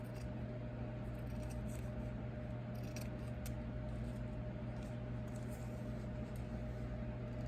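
Scissors snip away excess fabric while covering DIY pasties, a steady stream of soft cutting and rubbing sounds over a constant low hum, close and fairly quiet with no talking.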